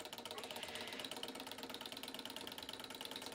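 Small Stirling engine driving a window motor, a quiet, fast, steady ticking and whirring mechanism with regular rhythmic pulses, faint and close, with no talking.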